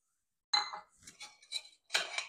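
A whisk mixes milk and granulated sugar in a small pan, making light metallic clinks and scrapes in a few short, close bursts separated by brief pauses.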